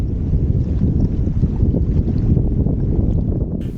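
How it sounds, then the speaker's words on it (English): Strong wind buffets a shoreline fishing spot at Stoneness Point on the Thames Estuary, a loud steady rumbling roar across the microphone with no voices. "The wind picked up, changed direction, and it got quite chilly"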